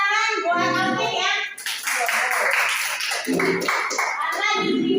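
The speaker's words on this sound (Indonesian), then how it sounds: "tepuk tangan buat Alvin ya" Students in a classroom clap briefly for a classmate's finished presentation, a short burst of clapping that comes between stretches of a voice talking.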